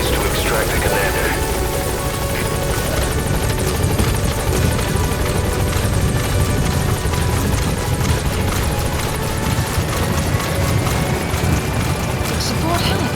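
A support helicopter arrives in the video game Metal Gear Solid 5, its loud, steady rotor roar and engine drone filling the whole stretch without letup as a voice talks over it.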